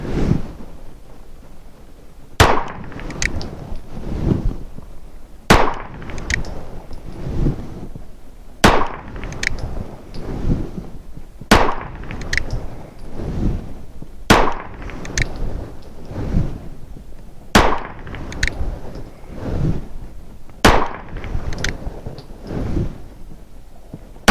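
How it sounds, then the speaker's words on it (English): A compact single-stack 9mm Sig pistol fired at 7 yards from the low ready, eight sharp, loud single shots spaced a few seconds apart, each with a short ringing decay, no talking. "We'll just try some headshots from the low ready."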